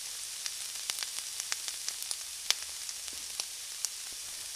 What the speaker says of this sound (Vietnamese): Mình cho vào đây để mình xào cho nó vàng,